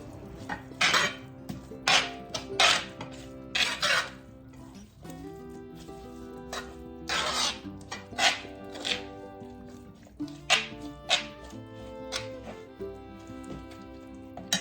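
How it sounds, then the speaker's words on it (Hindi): Spices and paste are mixed into food in a bowl for chicken biryani, with a spoon clinking and scraping against the bowl in bursts over faint tonal music. "ये सब डाल के अच्छी तरह से मिक्स कर लेंगे"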